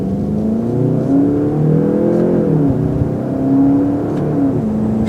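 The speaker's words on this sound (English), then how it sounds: "you get a lot of torque and then you can just keep on revving the car and it's happy" Engine of a 2019 Volkswagen Golf GTI, a steady loud drone that rises and falls as it revs, heard from inside the car with no talking.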